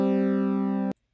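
A synthesized two-note chord built in BeepBox sounds once as a sustained, bright electronic tone that is cut off abruptly after about a second, alone and with no talking.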